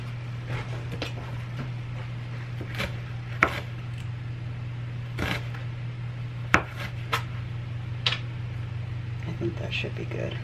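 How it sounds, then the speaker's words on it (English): A knife chops jalapeno on a cutting board in a home kitchen, with irregular sharp taps spaced through the stretch and a voice speaking alongside. "Just chopping up a little bit of jalapeno."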